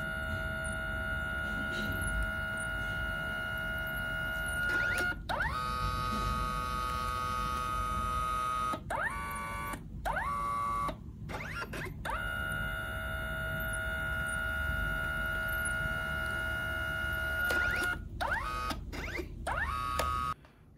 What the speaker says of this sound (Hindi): अब फोटो निकालने के लिए मुझे नीचे प्रिंट बटन पर टैप करना है और प्रिंटिंग प्रोसेस स्टार्ट हो जाएगा